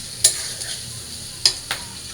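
Taro (kochur mukhi) is stirred into fried spices in a pan, a steady low sizzle broken by a few sharp spatula scrapes and clinks, close and without voices.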